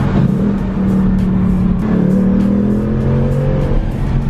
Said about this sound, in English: So here's some rev matching in a stock 18 with the exhaust.